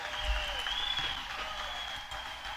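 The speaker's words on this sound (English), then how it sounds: "Low energy cheering." A crowd at a political speech gives faint, thin applause and cheering, distant and low in level, with no distinct voices on top.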